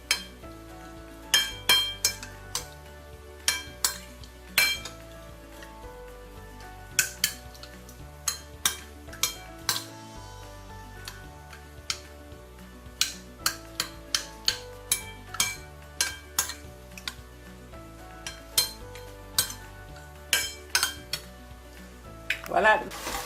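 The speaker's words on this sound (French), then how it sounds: "Je mélange le tout." Stuffing for stuffed garden courgettes being stirred: a spoon clinks and scrapes against a bowl or pan in irregular bursts, some sharp and bright, with quieter stretches between them.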